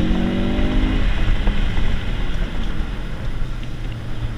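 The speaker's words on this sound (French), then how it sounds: "Ah, tu l'entends le turbo" A 2016 Ford Focus RS with a turbocharged engine accelerates, heard as a dense, loud roar with turbo rush from inside the car, steady throughout.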